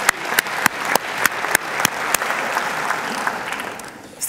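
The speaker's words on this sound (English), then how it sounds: "Round of applause for those taking part." An audience at a Rotary conference applauds, a dense wash of clapping with distinct sharp claps standing out in a loose rhythm, gradually thinning toward the end.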